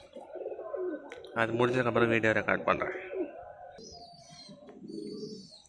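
Pet pigeons coo in a soft, throaty, rolling burst in the middle of the clip, with someone speaking Tamil before and after the call.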